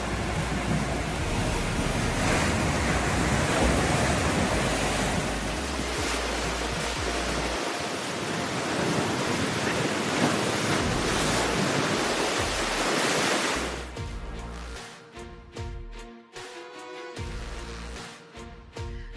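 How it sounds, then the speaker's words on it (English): Atlantic Ocean waves crash and wash below the cliffs at Ponta da Piedade on the Algarve coast in a steady, heavy roar mixed with wind. Partway through, the roar drops into a quieter, gusty wash. "The sound of the waves dominated everything."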